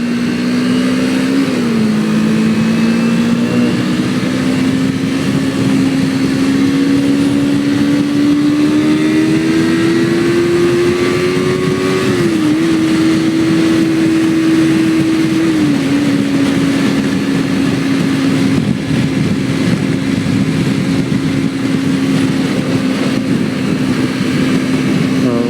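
A motorcycle cruises on a highway, its engine droning loud and steady with a sustained hum whose pitch shifts slightly with small throttle changes, accompanied by constant wind rush and no talking.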